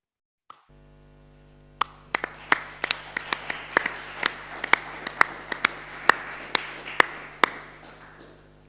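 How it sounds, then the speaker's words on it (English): Sparse clapping from a small conference audience at a closing session, a dozen or so separate sharp claps spaced irregularly and fairly close, over faint steady room hum, with no voices. "I'm not sure if you're able to hear the very warm applause that your words have triggered"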